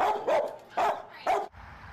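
Seized dogs bark in three sharp, close bursts with short pauses between them, clear and alone with no talk.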